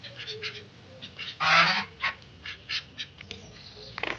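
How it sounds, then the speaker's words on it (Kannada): Geese and other fowl at Kolhapur mini zoo honk and call in short bursts, one loud nearby honk standing out among fainter intermittent calls. "ಇಲ್ಲಿ ಇನ್ನೊಂಥರ ಸಿಕ್ಕಾಪಟ್ಟೆ ಪಕ್ಷಿಗಳಿದ್ದಾವೆ ನೋಡಿ"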